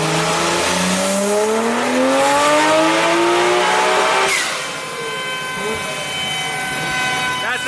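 A Nissan GTR engine on a dyno screams through a loud, rising high-rpm pull, then drops abruptly into a lower, rough idle-like whine as the run ends, close and dominating.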